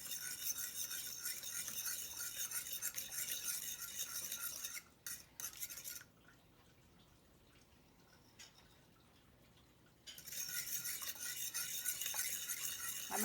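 Baking ingredients, including two eggs, are mixed together in a bowl, a soft continuous stirring and scraping that stops briefly midway before resuming; quiet and close, with no talking.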